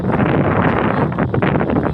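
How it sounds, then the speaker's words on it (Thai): Strong wind buffets the microphone in a loud, rough rumble with gusty surges, heard outdoors while foraging for shellfish in the countryside. "แล้วก็ลมก็ฟาดพัดมา"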